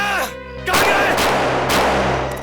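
A man fires a gun at passengers fleeing a bus accident. Two loud, sharp blasts ring out about a second apart after a brief tonal sound, each decaying into a noisy tail.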